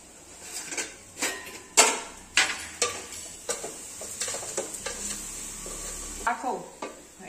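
Coconut and sugar mixture for Goan burfi stirred in a pan, with loud rhythmic scrapes and knocks of a spoon against metal over a soft sizzle, close up.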